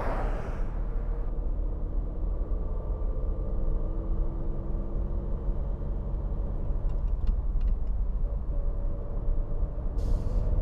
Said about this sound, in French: nous sommes dans une Citroën SM de 1971